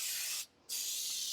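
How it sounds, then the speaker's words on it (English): Baker's Joy baking spray hisses from an aerosol can onto a cake pan in two close, steady bursts split by a short pause. "So I'm going to spray my pan with Baker's Joy."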